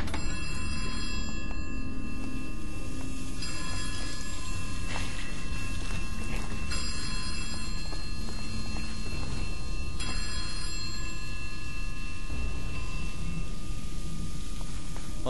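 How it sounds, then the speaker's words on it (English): A telephone rings repeatedly in the survival horror game Amy, a faint, thin trilling tone recurring over steady background ambience and music. "Is that a phone call?"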